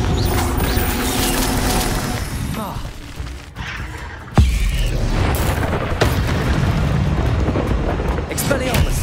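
Blasting-spell explosions in Hogwarts Legacy boom continuously over dense game noise, with one sharp, loud burst standing out partway through and a voice shouting spell names across the mix.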